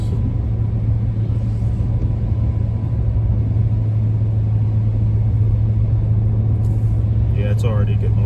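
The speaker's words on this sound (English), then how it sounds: "Downshift so I don't explode my boss's car's brakes." A car engine rumbles steadily and low while downshifting on a foggy drive, a constant hum heard up close with no talking.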